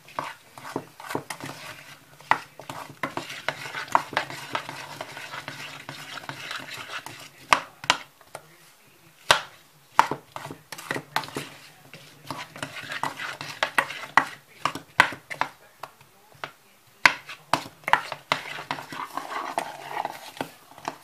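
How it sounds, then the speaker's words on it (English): A spoon stirs a mixture with lime juice in a pan, scraping and clinking in bursts with short pauses, close and fairly quiet. "1 tablespoon of lime juice. Just gonna stir this."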